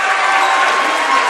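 A crowd at a high school basketball game applauds in a steady, dense wash of clapping that holds loud and even throughout, with no pauses or single claps standing out.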